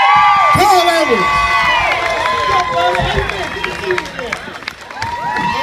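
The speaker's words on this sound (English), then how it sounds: "Oh yes, we have a crowd today." A dense crowd cheers and whoops at Texas Motor Speedway's garage party, many overlapping voices rising and falling steadily throughout, loud and close.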